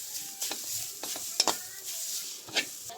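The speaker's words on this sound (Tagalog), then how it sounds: "Walang tigil sa paghalo to mga ka-channel ha. Para hindi masunog." Grated coconut roasting in a pan on a stove is stirred continuously with a utensil, giving soft scraping strokes and light sizzling crackle, quiet and close, with a few sharper clicks.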